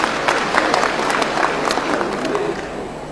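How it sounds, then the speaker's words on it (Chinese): Audience applause at a Yue opera competition as performers are welcomed onto the stage, a dense, steady clapping from a large crowd that stays loud throughout, with voices faintly mixed in. "掌声有请"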